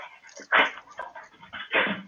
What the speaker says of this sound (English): dog wants to get in on this action